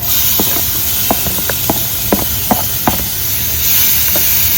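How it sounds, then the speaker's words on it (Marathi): Chopped onion hits hot tempering oil in a pan, giving a loud, steady hiss broken by a scattered run of sharp crackles and pops; no one speaks. "कांदा छानपैकी फ्राय करून घेऊया आता"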